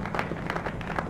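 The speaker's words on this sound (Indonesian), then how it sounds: "Aduh, ini suara tepuk tangan." A repeating applause sound from the Infinite Flight simulator, stuck in a glitch, a soft, continuous crowd clapping that keeps looping faintly over a low background rumble.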